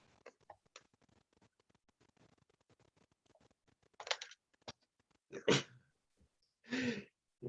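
In a quiet meeting room during a court hearing, a judge sneezes: a couple of sharp, close bursts following faint shuffling and small clicks, with a breathy sound afterward.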